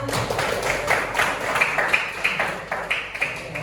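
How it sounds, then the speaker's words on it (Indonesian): Classmates applaud after a student's presentation in a classroom, a few seconds of light scattered clapping with individual sharp claps standing out near the end. "Tepuk tangan teman-teman semua"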